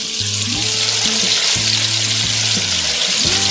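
Chicken pieces frying in a pan give a steady, loud hiss and crackle, while a utensil stirring and scraping against the pan makes repeated tonal knocks over the sizzle.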